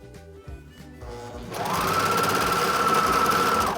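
A sewing machine stitches a pleated fabric face mask, starting after a few quiet handling sounds and then running in a continuous, fast, buzzing whir at close range, with no talk over it.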